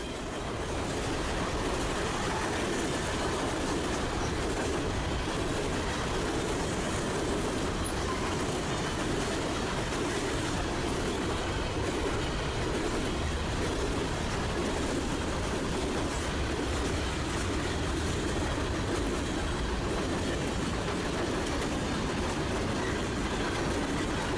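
A Norfolk Southern Dash 9 and a Union Pacific SD60M locomotive roll past on the Lehigh Line, a loud sustained rumble of rail cars with steady wheel noise and faint squeals and clacks throughout.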